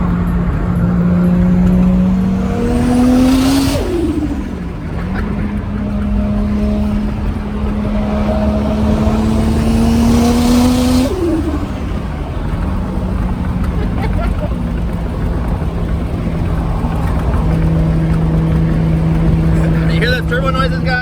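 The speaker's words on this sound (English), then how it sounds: "Turbo noises, guys. That's 600 horsepower right there." A 2JZ-GTE engine in a Mk3 Supra runs hard on a dyno, loud and continuous, with two rising pulls that each end in a sharp turbo whoosh before the engine drops back to a steady drone.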